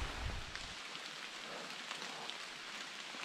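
Steady rain falls during a hike on the Appalachian Trail in Vermont, a continuous close hiss of drops on surfaces with a brief low rumble at the start and no talking.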